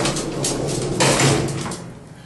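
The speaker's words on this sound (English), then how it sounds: "Gate closing." An old lift's gate closing is a continuous loud metallic rattling slide lasting about two seconds, heard close, which swells midway and then cuts off abruptly.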